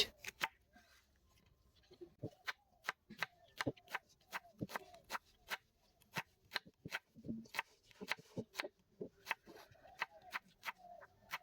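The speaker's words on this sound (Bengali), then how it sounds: "প্রথমে আমরা কেটে নেব পেঁয়াজ" A knife chops onions on a board in quick, sharp, close taps, mostly steady in rhythm with brief pauses, while a faint voice murmurs in the background.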